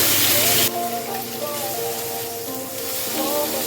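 Chopped medium tomatoes hit a hot pan, a loud burst of sizzle in the first moment settling into steady frying hiss with faint stirring throughout.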